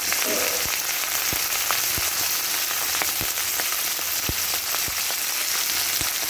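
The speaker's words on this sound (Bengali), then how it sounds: "আর তেল ভালো করে গরম হওয়ার পর একে একে সমস্ত সবজিগুলোই এর মধ্যে দিয়ে দিচ্ছি।" Mixed vegetables fry in a little hot oil, giving a close, steady crackling sizzle dotted with sharp pops and spits, with no talking.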